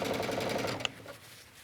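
A sewing machine stitching an elastic waistband onto leggings hums in a quick, even run of stitches for most of a second, then stops with a small click, leaving a quiet room.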